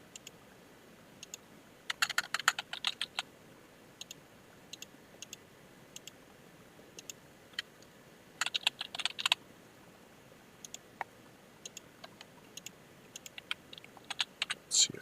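Computer keyboard typing in quick bursts of light clicks separated by pauses, close and fairly soft against a quiet hiss, while playing the Enigmatica 2 Minecraft modpack.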